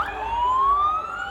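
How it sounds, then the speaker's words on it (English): Ambulance siren passing through a street rally in Taylor Square, Sydney, a clear rising wail sweeping upward in pitch, moderately close over low traffic and crowd background. "Oh, it's an ambulance."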